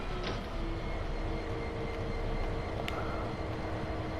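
A diesel locomotive engine in Train Sim World 2 throbs with a steady low rumble, a continuous deep thumping drone with a faint whine above it, with no talk.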